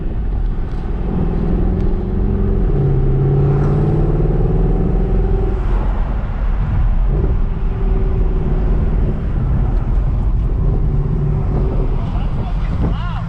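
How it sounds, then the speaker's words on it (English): A deep Mercedes C63 AMG V8 engine rumbles continuously and loudly nearby, its low throb rising and falling slightly, with a voice talking over it. "I hope you guys like V8s because this channel's about to get lit"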